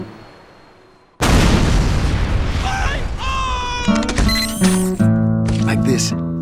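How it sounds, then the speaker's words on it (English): A heavy caliber tripod-mounted gun in a Dragon Ball parody animation opens fire with a sudden loud boom after a quiet second, followed by sustained blasting, ringing metallic tones and layered effects, with a voice speaking throughout. "Like this heavy caliber tripod mounted little old gun built by me."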